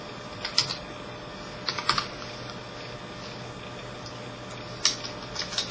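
Keyboard typing in scattered bursts of quick clicks, close by, over a low steady background hum with no talking.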